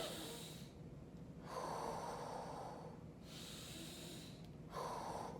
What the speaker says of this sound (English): you pick one of the nostrils and start breathing